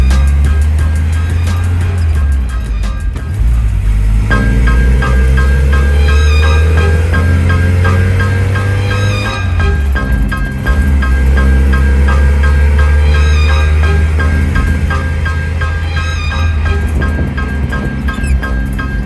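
A 1980 Toyota pickup with a 22R four-cylinder engine pulls away and runs up and down through the gears, a loud, steady low drone whose pitch climbs and drops with each shift.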